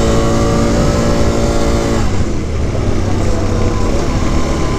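A quad ATV engine roars loud and close while riding at about 40 miles an hour on Idaho trails, holding a steady high drone that dips slightly partway through, with wind noise and no talking.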